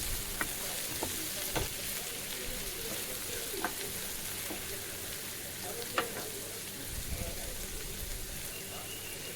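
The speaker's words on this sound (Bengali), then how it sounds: "ভালো করে নেড়ে চেড়ে নিতে হবে আর দেখতে হবে যাতে সবজিগুলো পুড়ে না যায়।" Chopped vegetables sizzle steadily in hot oil in a pan over lowered heat, with occasional sharp scrapes and knocks from a spatula stirring them, close and continuous with no talking.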